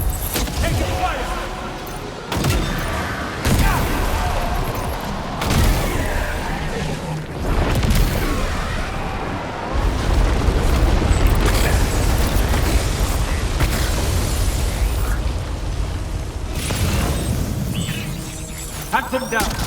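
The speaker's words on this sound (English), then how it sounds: "Taking fire!" Gunfire and explosions from the video game Death Stranding 2 during a boss fight, with repeated loud booms and sharp bursts spread through a dense, continuous battle mix, and speech running underneath.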